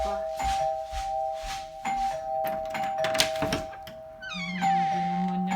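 Doorbell at a home abroad chiming with a sustained tone, mixed with a cat meowing, then a new electronic ring tune starts near the end.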